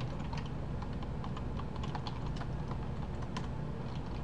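Rapid, steady keystrokes on a computer keyboard as code is typed for a Small Basic program, a dense run of clicks with no voice over them.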